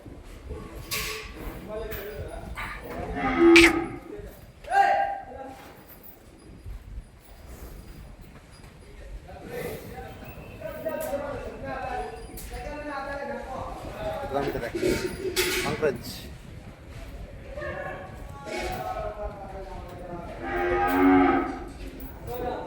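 Several cows at a cow shelter moo, drawn-out low calls at intervals from nearby and farther off, while people talk in the background.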